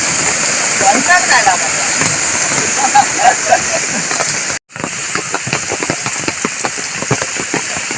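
Floodwater from heavy monsoon rain rushes loudly through a village stream in Konkan, a steady broadband roar that continues alone, briefly cutting out midway before resuming.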